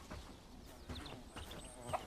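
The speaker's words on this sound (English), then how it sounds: "Oh, and we also got chickens." Chickens clucking in the farming and village-building game Bellwright, a few soft scattered clucks and squawks heard at a modest distance, with no talk over them.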